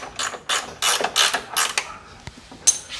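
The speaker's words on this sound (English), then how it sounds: "Tighten this one down a little bit." A 19 mm bolt on the front lower control arm of a 1997–2001 Honda CR-V being tightened, heard as a series of short, close ratchet bursts with brief pauses between them.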